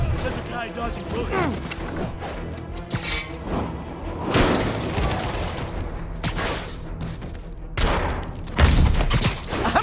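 Enemies open fire in Marvel's Spider-Man (2018), a dense volley of repeated shots and thuds with heavy bursts and whooshes, mixed with shouting game voices throughout.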